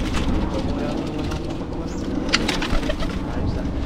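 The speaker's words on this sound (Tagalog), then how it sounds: "Ang ganda ng kalapati." A racing pigeon coos close by in a throaty, repeated murmur over a steady background rumble, with people's voices occasionally talking nearby.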